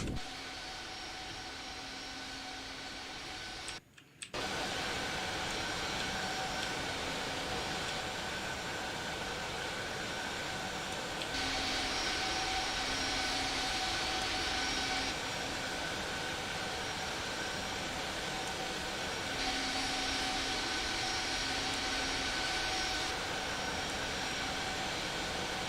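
Airbus A380 jet in a flight simulator heard from outside, a steady loud engine roar and whine that runs without a break, with tonal hums and a brief dropout early on, and no talk.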